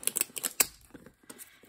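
A blade slices open a blind box toy package in a quick series of close, crisp scratchy cuts and crinkles with a sharper snip partway through, fairly quiet and without talk.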